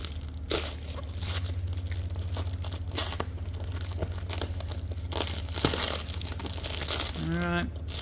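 Plastic weed mat wrapping crinkles and crackles steadily as packing tape on a tunnelhouse kit roll is sliced open, close and fairly loud, with a brief sharper tearing burst near the end.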